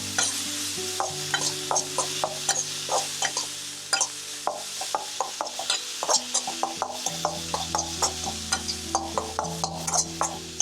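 Chopped onion stirred into kanda poha in a pan, with a quick, steady rhythm of spoon scrapes and clicks over a soft sizzle, close and loud without voices.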